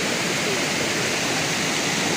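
The Nakovalnya waterfall in Mishoko canyon roars as a dense, steady rush of falling water, loud and close, filling the whole clip without pause.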